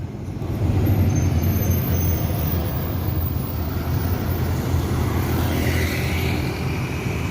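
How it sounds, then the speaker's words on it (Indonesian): A Sumbar intercity bus pulls away with a loud, steady diesel engine roar and road noise that swells quickly and stays sustained, with no talking. "Ini bus yang ketiga berangkat dari Sumbar"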